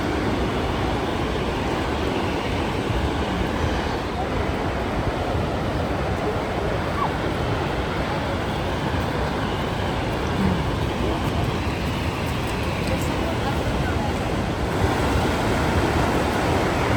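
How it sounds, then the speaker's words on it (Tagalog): Takakkaw Falls in Yoho National Park roars as a steady, loud, broadband rush of falling water heard from nearby. Wind noise buffets the microphone throughout. "Ayan, ang falls again. Takakaw Falls."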